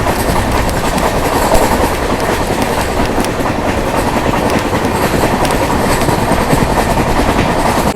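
The 20657 Hubli–Nizamuddin Superfast Express, heard from a first-class coach, rolls on the rails into Kurduwadi Junction with a loud, steady rumble and a continuous clickety-clack of wheels. No voices can be heard.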